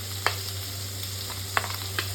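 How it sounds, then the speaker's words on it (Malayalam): Onion sautés in butter in a pan for a chicken Tuscan dish, giving a faint, even sizzle under a low steady hum, with three light scraping stirs. "ഇനി നമുക്ക് അതിലേക്ക് ആവശ്യത്തിനുള്ള സബോള വഴറ്റാനുള്ളത് ഇട്ട് കൊടുക്കുക."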